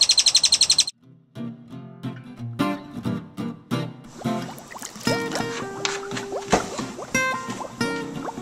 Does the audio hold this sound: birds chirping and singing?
yes